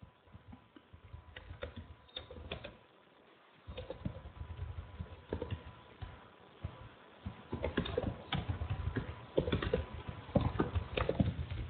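Irregular clicks of keys being typed on a computer keyboard, soft and close with brief pauses, becoming busier and denser toward the end.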